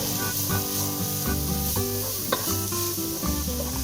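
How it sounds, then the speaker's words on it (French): Salt cod and tomatoes for a Réunion rougail morue sizzle and spit in a pan, a steady close frying hiss with a brief spatter near the middle, mixed with tonal background music and no speech. "Et on va laisser cuire donc la morue avec les tomates pendant quelques minutes."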